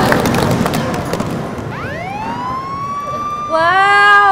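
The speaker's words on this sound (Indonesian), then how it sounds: "Wow, sudah ada bunyi sirena." A loud siren sound effect rises and wails, then jumps into a higher, steadier tone, played over a school quiz show with a noisy crowd at the start.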